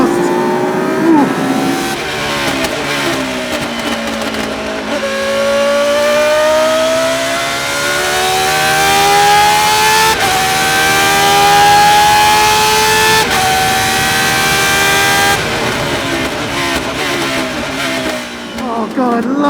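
A V10-powered Lola Le Mans prototype race car revs hard, its engine note climbing through the gears with sharp blipped downshifts, loud and close throughout, with a voice speaking over it.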